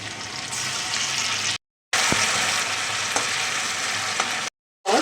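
Onion juice and tomato paste frying in a pan for a Bengali prawn malaikari, a steady loud sizzle with occasional stirring clinks, cut by two brief silent gaps.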